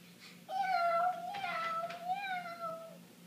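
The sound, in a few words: person imitating a cat meowing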